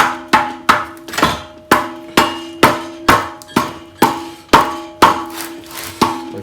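A hammer pounds on an exhaust pipe to stretch it while new mufflers are fitted to a Dodge Dart Swinger, a steady run of about fifteen sharp metallic blows with ringing decay, close and loud with no talk.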